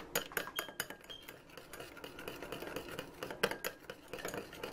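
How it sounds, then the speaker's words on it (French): A homemade pizza mixture with jute leaves (ademe) being stirred in a bowl, a spoon scraping and clinking against the sides in quick, uneven strokes, close and moderately loud. "Mélanger comme ça."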